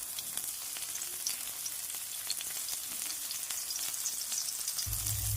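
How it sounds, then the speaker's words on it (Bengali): Chopped green chillies frying in a little mustard oil, a continuous crackling sizzle with fine pops throughout, close and steady, with a low rumble joining at the very end. "তেলের মধ্যে দিয়ে দেব কুচানো লঙ্কা,"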